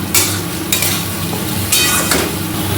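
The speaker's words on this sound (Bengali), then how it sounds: "মশলাটা খানিকক্ষণ কষাবো" Spice paste for ghugni is stir-fried in a pan, with a continuous sizzle broken by a few sharp scrapes of a spatula against the metal, close and fairly loud.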